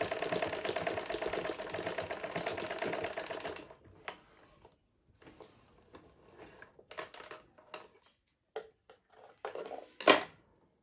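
A sewing machine runs in one fast, even burst while stitching a skirt, close and loud, then stops, leaving scattered clicks and handling noises of fabric and parts.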